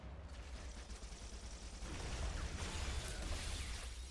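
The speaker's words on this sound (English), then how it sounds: "Explosions for days. Michael Bay style explosions." Explosions and gunfire in the video game Halo CE, with a steady roar of dense bursts and blasts that grows heavier partway through, with no voices over it.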